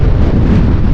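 Wind gusting hard across an open rocky hilltop viewpoint near a damaged hanging bridge, a steady low roar buffeting the microphone without a break, with no voices.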